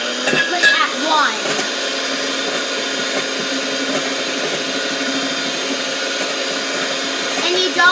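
Electric mixer on low speed whipping meringue with powdered sugar for chocolate mousse: a steady, close motor whir with rattling of the beaters against the bowl, and a voice briefly heard at the start.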